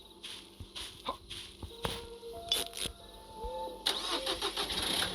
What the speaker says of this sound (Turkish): Oh arabayı çalıştırdım.